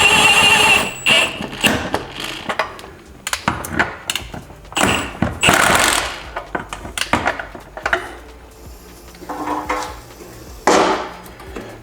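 Tools clank and rattle while a transmission mount is bolted into a car during an engine reinstall, with irregular loud metallic knocks, scrapes and ratcheting bursts spread throughout.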